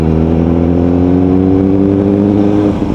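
A Kawasaki ZX4RR motorcycle engine, with its RPM setting raised, revs loud and close in a sustained high-pitched wail that slowly drops in pitch before easing off at the end.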